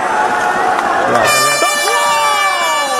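A crowd cheers at an Indonesia versus Denmark futsal match at the CFA International 2025 tournament, a loud steady roar with horn-like tones rising through it.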